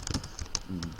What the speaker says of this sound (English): Man, I'm a pretty fast typer, aren't I?